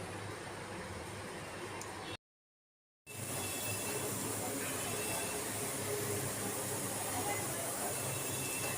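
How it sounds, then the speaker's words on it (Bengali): A pressure cooker whistles in a long, steady hiss while meat boils for a Hyderabadi Nizami jahaji korma. The sound is loud and continuous, broken once by a brief full dropout. "তো আগে আমি সিটি দিয়ে দিই, ভালো করে মাংসটাকে সেদ্ধ করে নিচ্ছি।"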